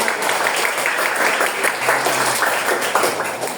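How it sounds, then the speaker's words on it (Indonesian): Schoolchildren at SDN 1 Sendarejo clap together during a classroom lesson, a steady dense patter of many small hands filling the room, moderately loud and continuous throughout. "beri tepuk tangan untuk kalian"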